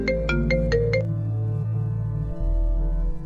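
A phone ringtone rings inside a car, a loud electronic melody with a few quick repeated beeps at first, then a steady sustained tone, close and alone.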